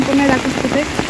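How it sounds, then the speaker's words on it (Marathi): Heavy monsoon rain pouring and rainwater gushing along a road near a waterfall, a dense loud continuous wash close by, with a voice speaking over it. "खूप जोरात पाऊस आहे, खूप जोरात."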